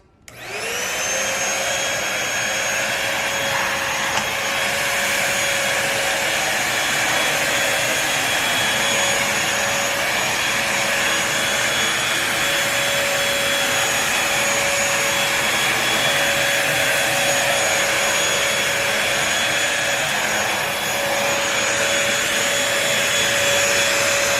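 A Bissell 3-in-1 lightweight cordless stick vacuum cleaner whirs steadily at a high pitch throughout, loud and close, with a constant airy roar and no pauses.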